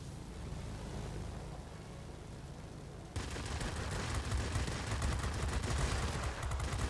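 Rapid bursts of 20 mm cannon fire from an F7F Tigercat heavy fighter in World of Warplanes, dense crackling fire over a constant engine roar that grows louder and harsher partway through.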